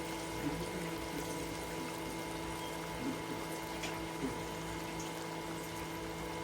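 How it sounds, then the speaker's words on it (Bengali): Hot water pours steadily into a pan of bele fish chorchori, a soft continuous running hiss that stays faint and even throughout, with no talking. "এখন আমি একটু গরম পানি দিয়ে দিই।"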